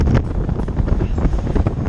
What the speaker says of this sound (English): it's really very windy now